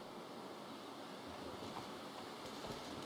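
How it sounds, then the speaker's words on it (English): Steady wind blows across a snowy landscape in the survival game The Long Dark at Trapper's Homestead, a faint, continuous broadband rush with no talk. "It is windy."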